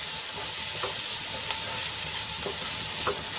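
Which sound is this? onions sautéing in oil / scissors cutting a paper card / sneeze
onions sautéing in oil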